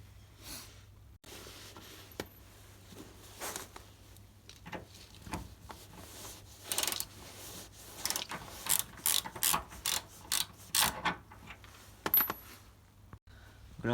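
A ratchet tightens freshly greased screws, giving bursts of quick, close, crisp clicks in an uneven rhythm that grow denser toward the end, with faint background noise and no talking.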